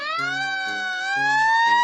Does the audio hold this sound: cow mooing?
no